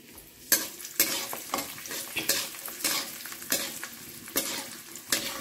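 Two large garlic cloves fry in a pan for red chilli chutney: a close sizzle broken by rhythmic scraping and stirring strokes about every half second.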